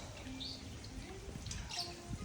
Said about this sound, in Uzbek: Qushlar sadosi ostida.